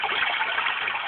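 A white noise machine plays a waterfall setting, a steady, even rush of falling water with a bright hiss and no pauses, close and continuous throughout.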